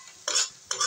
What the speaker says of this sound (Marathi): आता टोमॅटो प्युरी परतून घ्यायची